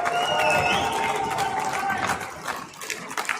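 Thin, scattered clapping from a modest audience in a large hall, mixed with crowd murmur and a few stray tones, strongest at first and then thinning out toward the end.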